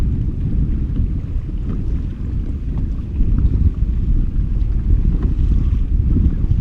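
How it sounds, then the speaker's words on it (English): Steady, gusting wind roars across open water on Lake George or Lake Champlain, buffeting the microphone with low rumbling noise; no voices. "Really fighting the wind here"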